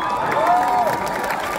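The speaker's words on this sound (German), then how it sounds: "Applaus für Moni" At a free secret concert in Dresden, the crowd cheers and applauds in a dense, loud burst, with shouts rising briefly above the clapping.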